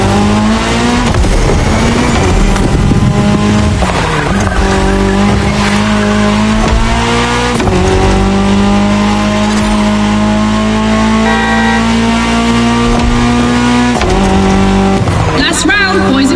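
Rally cars, an Audi S1 EKS RX Quattro and a Ford Puma Hybrid Rally 1, race in The Crew Motor Fest, with loud continuous engine drone, revving shifts and tire squeal throughout, a voice speaking over the racket.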